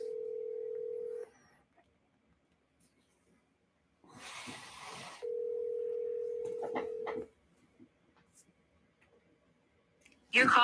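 Phone call audio with a steady dial or ringback tone for about a second, a burst of noise, then a second long tone for two seconds, followed by faint clicks and a final loud burst as the line connects to voicemail.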